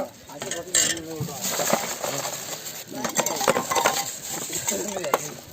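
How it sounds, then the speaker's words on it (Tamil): A spoon stirs nannari sarsaparilla-root sherbet, clinking and scraping against a glass or vessel in quick, uneven bursts, with voices and background bustle throughout. "கலக்கி ஊற்றுக்காங்க"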